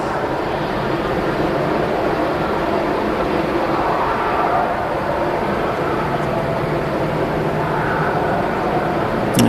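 An Ethiopian Airlines airliner departs Manchester Airport, its jet engines a broad, steady roar that swells slightly through the middle, heard from a distance outdoors with no talking.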